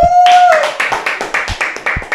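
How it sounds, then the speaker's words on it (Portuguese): A short burst of steady, loud hand clapping from a small group, rhythmic and close, following a brief tone at the start. "uma salva de palmas ao Nana!"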